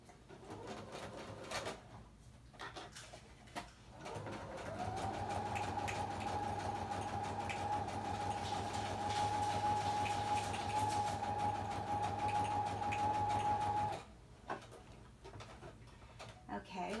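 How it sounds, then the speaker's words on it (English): A sewing machine stitches fabric in a steady, even whir that starts after a few seconds, runs for about ten seconds, then stops abruptly, with a voice talking before and after. "Okay, I've got the bottom stitched."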